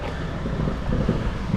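Steady wind sweeps across a beach at Florianópolis, Brazil, roaring continuously into the microphone as a dense, buffeting rush with no talk.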